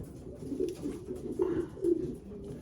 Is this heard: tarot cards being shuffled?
no